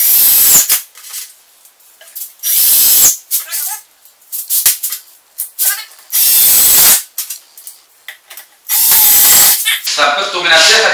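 A power drill drives 30 mm wood screws into timber joints during carpentry work, in several loud whirring bursts of a second or two each, separated by quieter handling clicks and clatter.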